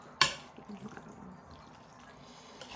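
Dressing poured from a bottle onto a gluten-free pasta salad, with a sharp tap at the start and then a soft, close, wet glugging and spattering that trails off.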